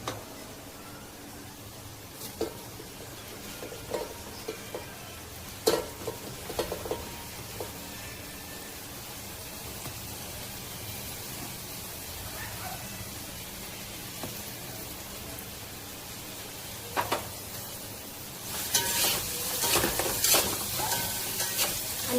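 Chopped onion sautéing in a pan after garlic-ginger paste, a steady low sizzle with occasional stirring scrapes and clicks, growing louder and hissier near the end.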